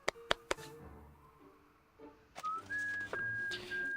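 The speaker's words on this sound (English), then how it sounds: "She spins again, following the steps exactly as directed, and whistles." A few sharp clicks open the moment, then a character in the game Reverse: 1999 whistles a short, broken tune of several held notes, clear and close.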